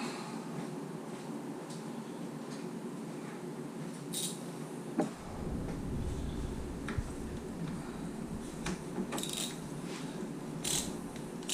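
Ratchet wrench clicking on a 12 mm bolt at the starter solenoid of a 2005 Arctic Cat 400 4x4 FIS ATV, quiet metallic ratcheting and scraping under a low background rumble, fairly faint and close.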